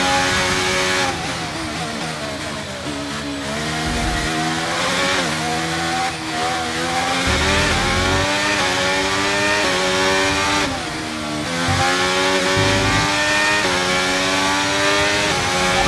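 In the F1 23 video game, an F1 race car's engine screams on track with a loud, continuous high-pitched howl. Revs rise and fall through repeated upshifts and brief dips under braking over about sixteen seconds, and no speech is heard.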